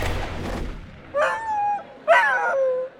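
Dogs at the 142nd annual Westminster Kennel Club Dog Show in Manhattan, New York City, give two drawn-out whining, howling yelps over a low indoor murmur, close and clear.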